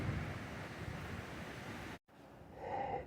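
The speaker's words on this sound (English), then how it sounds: "Wind gusts are getting bigger." Strong hurricane wind gusts from Hurricane Ian roar steadily and loudly for about two seconds, cut out briefly, then surge back in a rising gust, with no voices.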